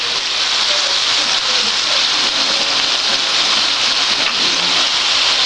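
Six buffalo burgers fry in a pan, giving a loud, dense, continuous sizzle and crackle that holds steady throughout with no talking.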